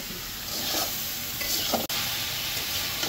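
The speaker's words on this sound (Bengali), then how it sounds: "তো একটু কষাতে থাকি ভালো মতো লাউটা" Bottle gourd sautéing in a pan gives a loud, dense sizzle throughout, with a brief stir or scrape partway through and no talking.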